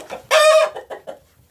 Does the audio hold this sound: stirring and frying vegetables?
no